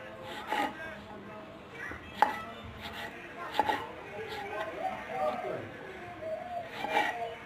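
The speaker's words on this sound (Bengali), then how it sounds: "আমি এখানে টমেটো কেটে নিচ্ছি।" Tomatoes chopped with a knife on a cutting board for chicken curry, a series of sharp, separate chops at an uneven pace, close, with a voice speaking over them.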